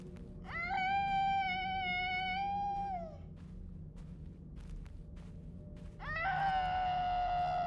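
A mimic creature in a horror video game lets out two long, wavering, high-pitched screams, the first lasting a few seconds and the second starting after a pause, over a low steady game ambience.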